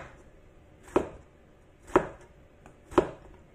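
Three evenly spaced knife chops through vegetables, slicing them into rounds on a board, each a distinct close thud about a second apart, with no talking.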